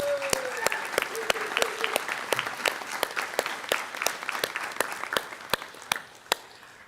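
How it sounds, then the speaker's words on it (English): An award-ceremony audience applauds the recipients, with distinct hand claps spaced quickly and fairly evenly across the room, close and crisp, and a brief voice or tone at the start. "Give them an applause."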